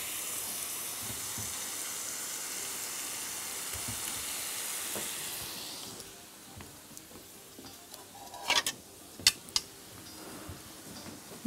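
A steak fries in a pan, a bright close sizzle that fades after about six seconds when it is flipped a last time, followed by scattered clinks and taps of utensil against pan.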